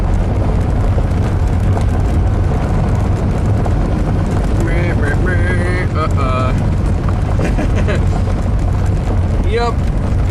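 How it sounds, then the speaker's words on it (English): An abandoned Audi turbo car is driven and accelerated on a drive, its engine and road noise roaring steadily and loud throughout, with a rising whine near the middle and a person talking briefly. "I'm gonna depress the accelerator."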